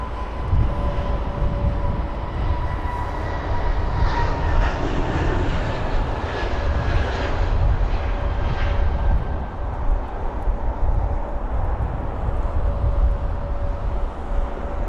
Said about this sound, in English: We've got the Etihad 380 right over there.